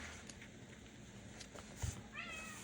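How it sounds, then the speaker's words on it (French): A cat gives a brief meow near the end, fairly close but soft, over a quiet indoor background with faint rustling. "Tu ronronnes ça? Tu miaules ça?"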